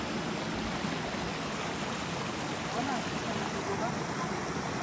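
Steady broadband rush of a river's running water at an outdoor family camp, continuous and fairly loud throughout with no clear voices.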